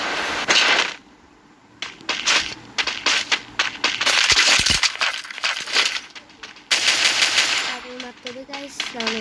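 Free Fire mobile game gunfire, rapid automatic bursts and single shots broken by short pauses, with glassy clinks and higher electronic tones mixed in, loud and up close.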